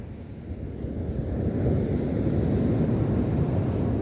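Waves surge onto the shore at Corton, a steady rushing wash of surf mixed with gusty wind buffeting the microphone, building slightly and then holding, with no voices.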